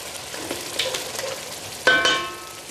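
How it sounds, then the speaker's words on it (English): A beef shin casserole with oyster sauce gets stirred in the pot, soft scraping and sizzling strokes building to a louder clattering scrape near the end, with no talking. "A bit of a stir."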